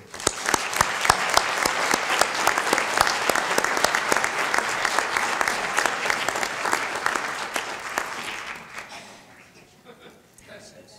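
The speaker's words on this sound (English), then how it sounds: "Please join me in a round of applause for the Honorable Judge Andrew W. Gould" An audience at a Yuma city inauguration ceremony applauds Judge Andrew W. Gould, with dense, lively clapping and sharp individual claps standing out, sustained for about eight seconds before thinning and fading away.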